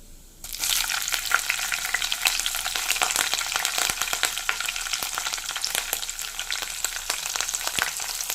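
Cumin, mustard seeds and green chilies frying in hot oil, a loud, dense crackling sizzle that starts abruptly and continues steadily with frequent sharp pops, close up and without talk.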